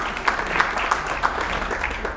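An audience at a candidates' forum gives a short, thin round of applause, scattered hand claps at an even pace, loud and close, with no talking over it.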